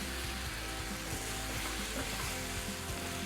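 Raw peeled potatoes sizzling in a hot frying pan for Bombay potatoes, a steady dense crackle with soft stirring knocks running throughout, close and fairly loud with no voices.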